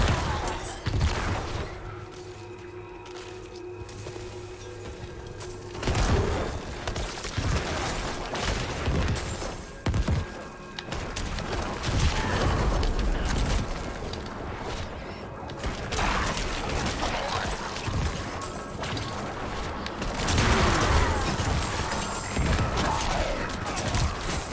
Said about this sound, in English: I love those Black Death's like juicy explosions.